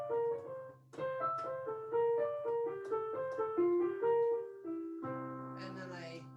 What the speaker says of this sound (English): And with that arpeggio device, sounds like this.